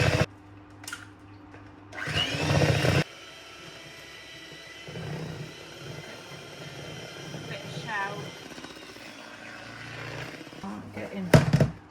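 An electric mixer whirs in bursts while eggs for a first-birthday cake batter are beaten, with a short loud run and then a steadier lower hum, and a voice talking over it in places.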